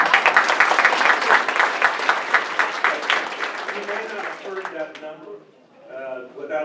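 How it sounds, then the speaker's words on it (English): Audience applause at a community business meeting, a burst of steady clapping that fades after a few seconds, followed by a speaker's voice over a quieter room. "Give him a round of applause"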